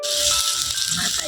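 Ground coriander-cumin spice mix sizzles in hot oil while frying for a corn chevdo snack, a steady, crackling hiss close to the listener.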